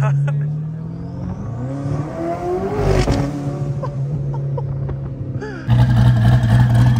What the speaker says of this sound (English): bro, this car sounds so crazy,